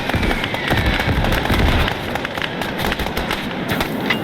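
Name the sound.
flare going off in video game Gates of Hell Ostfront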